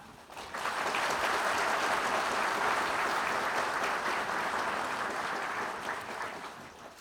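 An audience at a Korean Ministry of Justice inauguration ceremony for the new minister breaks into applause that swells quickly and holds as a broad, even wash of many hands before easing off near the end.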